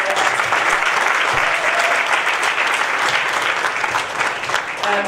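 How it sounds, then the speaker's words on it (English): An event audience gives a dense, sustained round of clapping that stays loud and even throughout. "I think we should give her a huge round of applause."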